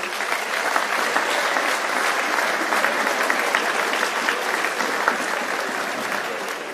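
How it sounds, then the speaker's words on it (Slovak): Sustained applause from the crowd at a professional boxing title bout in Slovakia, dense and even clapping filling the hall, loud and continuous. "Tak potlesk pre vás všetkých"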